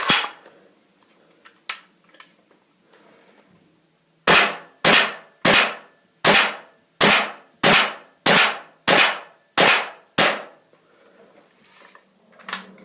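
An AIM SVD gas blowback airsoft rifle fires about a dozen sharp, loud, close shots in a fairly even rhythm, each with a snappy bolt-cycling clack, after a couple of isolated clicks and handling noises.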